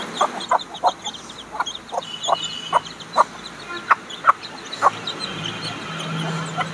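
Young hen chicks chirp and peep in short, irregular bursts while being given water, the calls fairly close over a soft background hiss.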